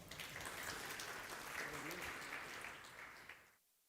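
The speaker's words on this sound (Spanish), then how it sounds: "Vamos a recibir con un fuerte aplauso al señor Roger Vargas para su ponencia" Applause at a cloud-computing and digital-innovation conference welcoming a speaker to the stage, a steady crowd clapping that holds evenly for about three and a half seconds and then stops abruptly into quiet.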